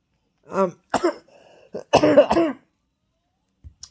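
A few harsh, throaty coughs close to the mic, coming in two short fits with a brief throat-clearing pause between them.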